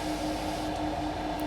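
A train in Train Sim World 4 on the Main Spessart Bahn rumbles steadily with a constant tonal hum and drone, loud and close, in a short unbroken stretch.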